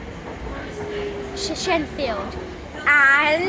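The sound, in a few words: Elizabeth line train arriving at Stratford station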